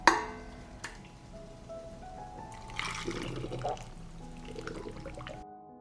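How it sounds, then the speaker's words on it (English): Hot boiled salt brine is poured over meat packed in glass jars, a soft continuous liquid trickle and gurgle lasting several seconds, fairly quiet with a small clink at the start. "Pour the dressing to cover the meat."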